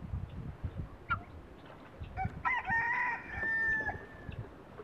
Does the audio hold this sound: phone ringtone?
no